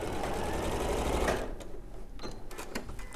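A sewing machine stitches a quilt with a fast, loud, steady mechanical whirr that stops halfway through, followed by a few light clicks and quiet handling sounds.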